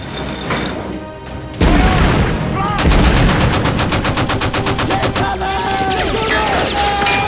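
Deck guns on a World War II naval vessel open fire in a war movie scene, a heavy boom followed by a rapid rattling burst of automatic fire and further shots, loud and close, with shouted voices mixed in.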